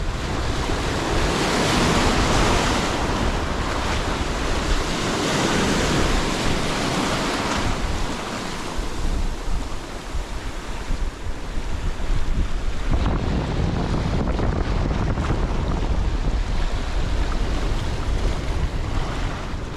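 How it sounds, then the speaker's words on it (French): Strong wind gusts buffet the microphone on a seashore while fishing, mixed with continuous waves and surf rolling in; the noise stays loud and broadband throughout, with no talking. "Malgré qu'il y a un petit vent"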